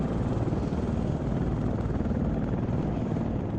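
AH-64D Apache attack helicopter in flight in the ARMA 3 combat simulator, a steady, loud, close rotor and turbine roar holding constant throughout with no pauses.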